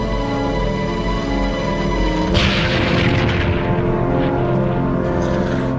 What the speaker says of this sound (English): 31 seconds later, the torpedo struck Aboukir.